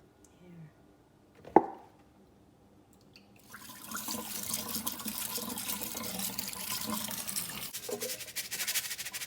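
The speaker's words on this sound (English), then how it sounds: "So in a pot, I need 4 cups of vegetable broth." Vegetable broth pours into a pot in a steady liquid stream lasting several seconds, close and moderately loud, after a sharp knock near the start.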